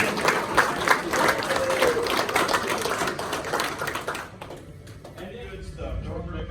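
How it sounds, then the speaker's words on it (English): A group at a road-trip convoy stop breaks into dense, lively clapping for several seconds, which then cuts off abruptly, leaving quieter voices and talking. "I'd just like to hear a round of applause for John."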